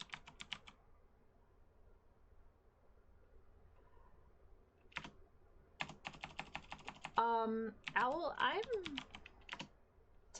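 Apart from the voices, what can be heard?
typing on a computer keyboard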